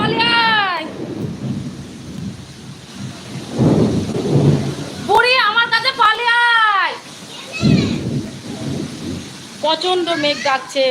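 A fierce thunderstorm with heavy rain: deep rumbles of thunder swell in two or three long bursts over a continuous rain wash, while people, including a child, talk loudly in between.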